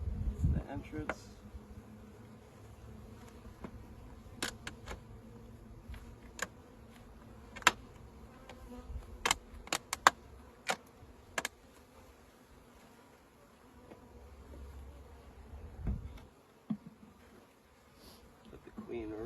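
Honey bees buzzing faintly around a hive as the queen is installed, a soft steady drone broken by scattered sharp clicks and knocks of handling, close by.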